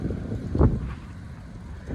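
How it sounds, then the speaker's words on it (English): Strong wind buffeting the microphone outdoors in snowy Georgia in low, rumbling gusts, with one heavier blast in the middle. "It's like real goddamn windy. I'm dodging the wind right now."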